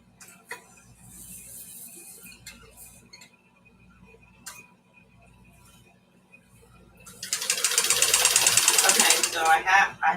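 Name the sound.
sewing machine stitching on zigzag setting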